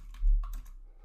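A command is typed on a computer keyboard, just a few close key clicks in about one second, alone with no talking.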